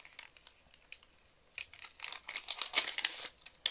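A paper envelope from an Advent calendar is opened and handled, with soft crinkles at first building into louder, busy crumpling and tearing rustles near the end.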